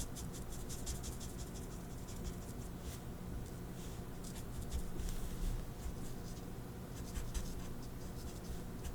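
Small chisel-tip marker scratching across paper in steady rhythmic strokes, a close dry rasp with short hatching bursts, continuous and quiet with no talk.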